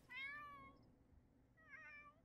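A cat meows twice in The Sims 4, two drawn-out tonal calls separated by a short gap, clear and close over faint background sound.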